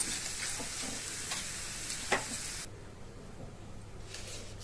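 Hot oil with tempering spices sizzles with a bright crackling hiss and a few spitting pops, then cuts off abruptly and leaves a quieter background.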